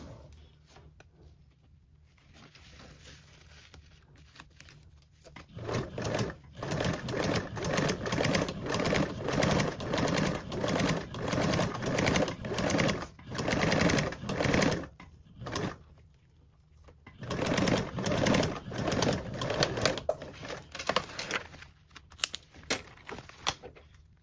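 A sewing machine stitches binding onto the bottom edge of a toiletry bag pocket in two close, rapid runs of rhythmic clatter, separated by a short pause and ending with a few faint clicks.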